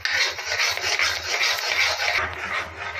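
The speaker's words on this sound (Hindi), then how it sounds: "कड़छी में चलाते ही रहना है ताकि बेसन नीचे ना चिपक जाए" A ladle scrapes and stirs gram flour roasting in a pan, making a continuous rhythmic rasping, close and fairly loud with no talk.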